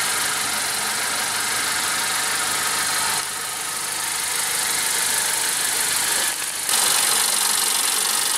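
A 2015 Honda CR-V Touring's 2.4-liter four-cylinder engine idles steadily, a close, even broadband hum with two brief dips in level partway through.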